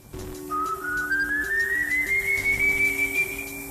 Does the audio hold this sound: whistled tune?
yes